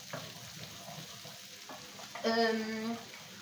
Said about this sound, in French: je baisse à nouveau le feu jusqu'à ce que les oignons cuisent et les pommes de terre aussi